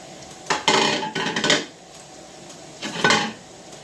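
Chopped onions and fennel dropped into a pot, heard as two close clattering bursts of pieces hitting metal with a short scraping tail, then a quieter gap and a third shorter clatter.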